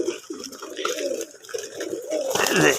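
Pigeons coo close by in a loft, with repeated throaty rolling calls overlapping one another throughout and a louder burst of cooing at the end.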